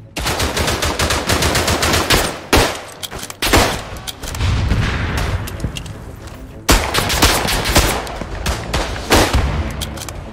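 Sustained bursts of machine gun fire in the World War I shooter Verdun, loud and close with rapid rattling volleys, brief pauses and heavy reports layered through the whole stretch.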